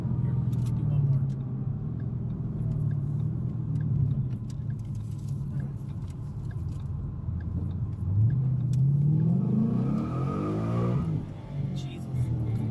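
A 2013 Ford Mustang GT running on E85 rumbles steadily from inside the cabin, then revs and accelerates with a rising engine tone near the end, while people talk over it.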